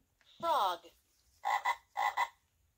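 A voice imitates frog croaks: one drawn-out warbling croak, then two quick pairs of ribbits, close and clear against a quiet background.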